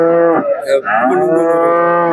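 A cow on a farm gives a long, loud moo that fills the whole moment, close by and strongly voiced, with a brief dip midway before it carries on steadily.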